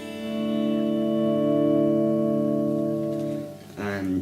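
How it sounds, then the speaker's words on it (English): Electric guitar chord faded in with a volume pedal, rising gradually from quiet to a full sustained ring and then tapering, close and alone, before a voice begins speaking at the end. "bringing in a chord or a guitar line, slowly lifting the volume with your foot"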